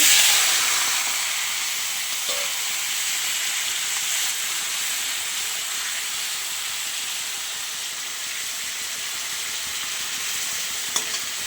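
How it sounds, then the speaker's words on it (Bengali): Steady, loud sizzling of prawns frying in hot oil fills the whole stretch, with a couple of faint clicks and no talking. "ফার্স্ট আমি চিংড়িটাকে ভেজে নেব।"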